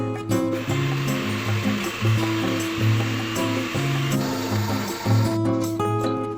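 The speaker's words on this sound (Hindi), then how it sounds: "बस इसको हम कर लेते हैं ब्लेंड।" A kitchen blender whirs steadily at close range as it blends jamun sharbat with mint leaves and a glass of water, a loud, continuous motor drone with a rushing churn throughout.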